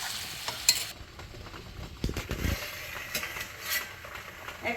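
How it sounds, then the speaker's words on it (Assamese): Ginger and black pepper fry with meat in a pan for an Assamese dish. A quiet, steady sizzle runs underneath while a few metallic scrapes and knocks of a utensil against the pan break through. "এয়া এইটোৱে মই আদা আৰু জালুকটো দিম, এনেকৈ অলপ সময় ভাজি মই ভাজা মাংসটো উঠাই ল'ম"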